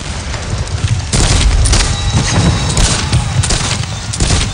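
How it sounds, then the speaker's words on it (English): Union cannon at Gettysburg fire point blank in a battle reenactment, with heavy booming volleys and bursts of gunfire rolling through a loud, continuous din. "Union gunners fire point blank."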